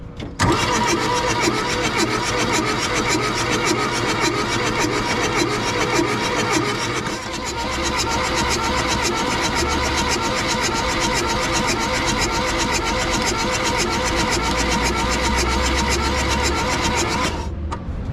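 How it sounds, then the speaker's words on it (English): Old VW diesel engine cranks with a steady rhythmic churn, then catches and settles into a loud, close, even clatter. "I just don't want to crank too long or burn."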